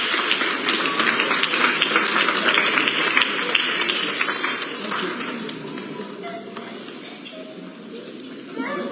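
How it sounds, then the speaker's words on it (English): Audience applause at an award ceremony during a book launch, dense clapping that is loud at first and thins out after about five seconds, with voices and children mixed in. "Round of applause, ladies and gentlemen"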